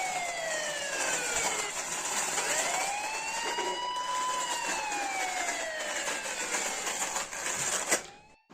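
A toy ambulance wails with a loud electronic siren whose tones sweep up and down steadily for several seconds, then stop with a click.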